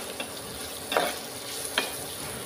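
Garlic and ginger fry in a pan, giving a soft steady sizzle broken by two brief scraping stirs.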